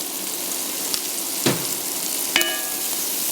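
Chopped onion sizzles in extra virgin olive oil, a steady close hiss with a few brief clinks and scrapes from stirring, and no talk.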